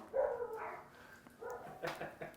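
Several dogs bark in a handful of separate bursts, fairly faint and somewhat distant, spaced out over a couple of seconds with no speech over them.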